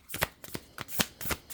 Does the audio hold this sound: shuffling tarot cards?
yes